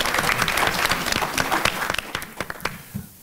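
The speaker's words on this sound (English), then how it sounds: "let's give a round of applause for our panelists before they even begin" An audience at a membership meeting claps for the panelists, a dense burst of many hands that thins into a few scattered claps and fades out.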